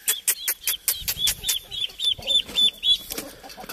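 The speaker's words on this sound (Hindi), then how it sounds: "तो ये मुर्गी जनाब रह गई हमारी" A hen clucking in a small backyard mini zoo, a rapid series of sharp, loud clucks and squawks in an uneven rhythm, close to the microphone, with faint scuffling and no talking.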